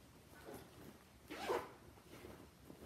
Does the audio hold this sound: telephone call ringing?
no